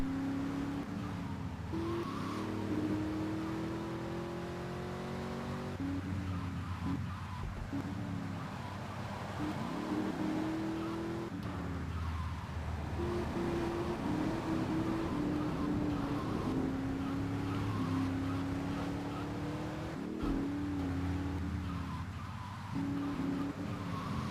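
A car engine droning steadily while driving in the video game GTA 3, with pitch rising and falling through gear changes and occasional tire noise, continuous and fairly even in level, no speech.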